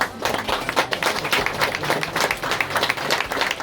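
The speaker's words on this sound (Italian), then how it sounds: "un applauso ai dottori" An audience applauds the doctors at a dental charity event, a lively burst of many hands clapping with an uneven, fluttering rhythm, fairly close and without talk.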